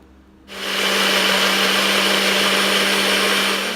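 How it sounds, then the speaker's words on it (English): A blender motor kicks on abruptly after a brief quiet and runs at a loud, steady whir, close up, blending a mango smoothie. "I'm gonna go ahead and reblend it."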